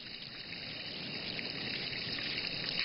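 Water trickling off a roof into bamboo in a Chinese garden, a steady, even, hissing flow of running water, fairly close and continuous with no talk.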